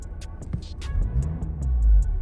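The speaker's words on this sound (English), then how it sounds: "as you can see, the car has just started." A salvage Audi's engine idles with a low rumble just after starting, rising slightly, while rhythmic ticking clicks repeat steadily over it, close by.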